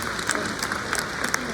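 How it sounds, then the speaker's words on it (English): An audience claps together in a busy, close patter of hands that holds steady through the short burst. "Let's give a round of applause to everyone here"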